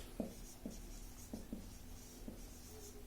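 Pen or chalk handwriting during a maths lecture, a series of short scratchy strokes in an uneven rhythm, faint and close, with no talking.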